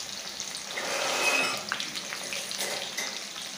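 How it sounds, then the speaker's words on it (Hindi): Onion frying in a pan for a Moongh turai dish makes a soft, fairly faint sizzle with light clatters of stirring throughout, and no one speaks. "इस प्याज को तलेंगे जब तक कि ये ब्राउन नहीं हो जाता"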